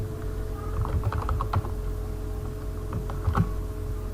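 Python code typed on a computer keyboard, a quick run of close key clicks in irregular bursts over a low steady hum.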